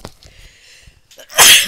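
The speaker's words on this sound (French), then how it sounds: "je vais éternuer" A single loud, close sneeze bursts out after a brief quiet pause, preceded by faint breathy sounds from an indoor speaker.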